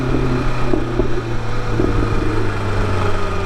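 A BMW S1000RR motorcycle engine with a suspected throttle body failure drones at a steady idle, up close and alone with no talk.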